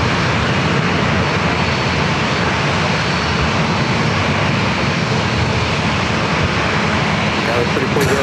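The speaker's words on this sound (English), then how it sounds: "Japan Airlines, the flight 787A Dreamliner heading back to Tokyo Narita up next." A Japan Airlines Boeing 787 Dreamliner takes off at San Diego airport, a loud continuous jet engine roar throughout with a voice talking over it.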